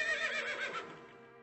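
A horse in The Sims 4 video game lets out a single clear, fairly loud whinny that wavers and then fades away, with no voices over it.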